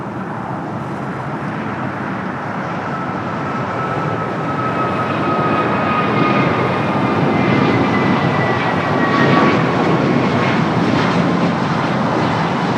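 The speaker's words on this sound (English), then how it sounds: "Next takeoff is American Flight 2192, the flight to Orlando." An American Airlines A321neo jet takes off at LAX, a loud broadband engine roar that swells steadily with a faint rising whine over the noise.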